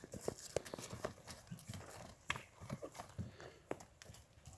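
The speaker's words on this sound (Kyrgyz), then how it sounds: "Мынакей достор, атты азыр жүгүртүп көрөлү." Hoofbeats of a racing horse being run in a Kyrgyz rural setting, irregular thudding clops at moderate distance, faint and somewhat muffled against outdoor background noise.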